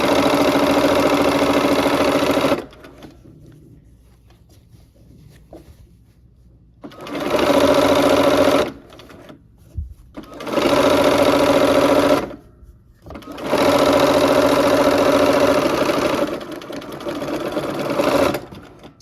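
Sewing machine stitching quilt seams in four long bursts of steady, fast whirring, each a few seconds long and separated by quiet pauses, close and clear.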